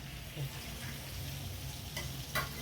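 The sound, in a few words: butter and oil heating in a pan for pav bhaji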